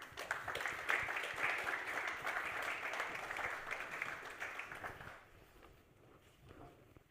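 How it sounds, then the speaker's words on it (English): An audience at a conference on European electricity market design claps for a panel taking the stage, a moderately distant, steady round of applause that tapers off after about five seconds. "A big round of applause, ladies and gentlemen,"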